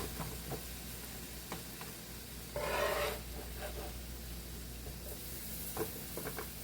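Hibachi-style food sizzles quietly and steadily on a hot griddle, with a brief louder burst of hissing partway through and occasional light scraping.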